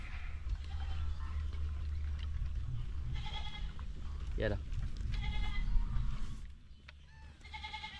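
Goats bleat a few times, wavering calls rising over a rumbling low background, with a person speaking briefly nearby.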